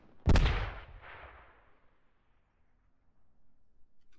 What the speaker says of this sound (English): More US mortars, actually